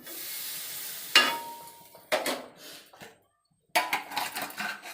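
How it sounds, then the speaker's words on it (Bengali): Water poured into a sizzling taro curry in a pan brings sharp hisses and bursts of sizzling in several separate surges, with a short quiet gap before a final loud burst, close up. "কচুর তরকারিতে এবার জল দিয়ে দিচ্ছি। জলটা অনেক বেশি হয়ে গেল।"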